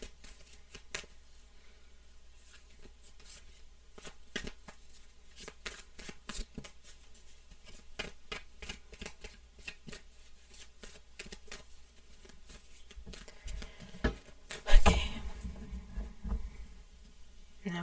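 Tarot deck shuffled by hand in a quiet room, a steady run of soft papery riffles and flicks for many seconds, building to a louder flurry of cards near the end, with no talking.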